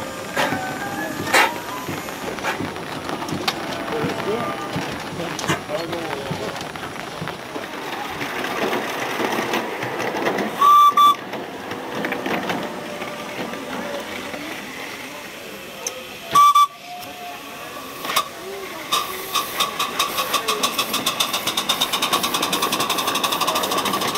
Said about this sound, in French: la marque Seguin effectue les va-et-vient sur la voie 15